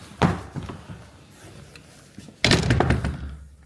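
A heavy wooden door in a thirteenth-century church swings shut with a loud thud, followed by a resonant rumble of reverberation, after some quieter creaks and knocks.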